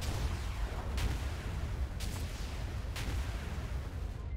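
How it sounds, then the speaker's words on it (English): Booming indirect rocket artillery fire from a tank in a combat video game, with three sharp distant-sounding launch bursts about a second apart over a steady low rumble. "And now we lay down the indirect fire."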